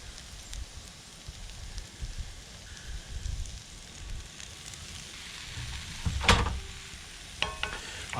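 Oyster mushrooms and cheese sizzle softly in a pan while a utensil stirs and scrapes, with a sharper clatter near the end; faint and close, with no talk.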